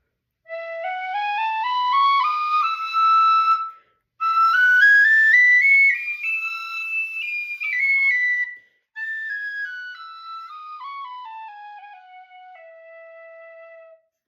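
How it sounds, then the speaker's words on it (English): An Eb tin whistle, one with a loose part taped in place, plays rising and falling melodic phrases in three clear solo passages with brief pauses between, bright and close. "But this is what this whistle sounds like."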